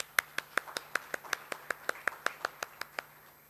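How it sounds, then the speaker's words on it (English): Hands clap in a steady, evenly spaced series of about sixteen crisp claps, close and fairly quiet, as an audience welcomes a speaker to the stage at a business presentation. "Let's please welcome him with a big round of applause."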